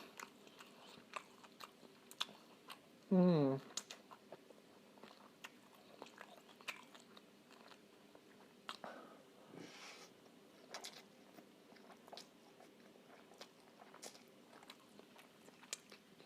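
An egg is eaten during a mukbang, with quiet close chewing and soft mouth sounds spread across a long stretch, a louder vocal burst near the start and faint background noise.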